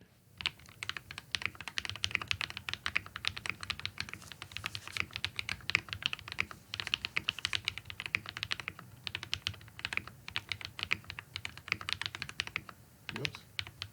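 Fast, steady typing on a custom-built keyboard, with dense, sharp key clicks in quick bursts, close by, with brief pauses and a faint voice near the end.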